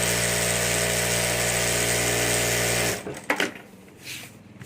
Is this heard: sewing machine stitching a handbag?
yes